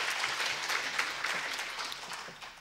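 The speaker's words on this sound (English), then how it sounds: "Can I have a big round of applause?" An audience at a ladies' training camp for DXN products claps in fairly quiet, sparse, uneven applause that continues throughout, with no voices over it.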